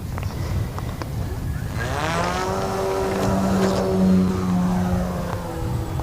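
Rutgers' Dragonfly, a small electric-powered biplane entered in the AIAA Design/Build/Fly student competition, its motor whining up in pitch and sustaining a loud, rising tone, with a cattle-like low drone mixed in.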